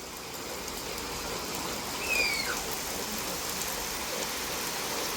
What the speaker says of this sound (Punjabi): ਲਗਾਤਾਰ ਪਿਛਲੇ 10 ਮਿੰਟਾਂ ਤੋਂ ਤੇਜ਼ بارش ਹੁੰਦੀ ਹੋਈ